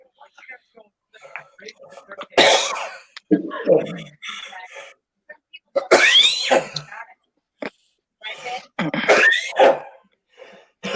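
A few sharp bursts like sneezes and coughs among quiet voices, spaced out over several seconds, close to the microphone.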